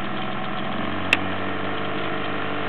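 A Toyota Corolla with a detonation problem idles steadily, close up, as a low, even engine drone with one short sharp tick partway through.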